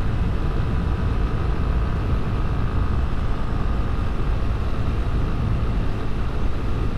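Honda CB300R motorcycle rolling on the throttle in fifth gear on a rough-surfaced road, a steady dense engine drone mixed with wind rush, loud and continuous throughout with no talking.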